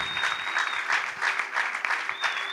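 A church congregation breaks into sustained, loud applause in praise of the Lord, a dense wash of clapping hands that carries steadily from start to finish, with a thin high whistle-like tone at the start and end.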